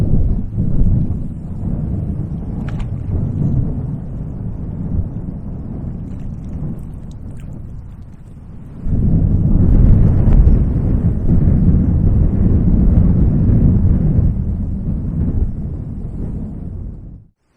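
Strong wind gusts across a microphone on the bank of the River Avon, a continuous low rumbling buffet that swells sharply about halfway through and stays heavy until it cuts off, with no talking.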